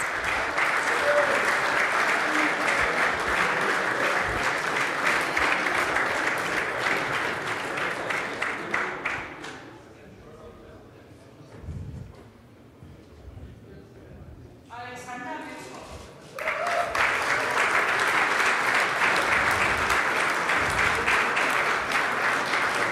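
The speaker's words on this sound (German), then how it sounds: "Und wurde hier begrüßt mit tosendem Applaus" Loud, sustained applause from a large crowd at the 1. FC Magdeburg championship celebration, fading to a quieter lull with some murmuring before the clapping swells back in at full strength.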